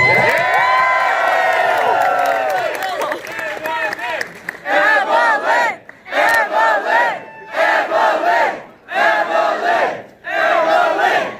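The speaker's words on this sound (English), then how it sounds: "Let's give her a round of applause." A large crowd cheers and shouts together, then breaks into rhythmic, chanting bursts of yelling separated by short pauses, loud and close.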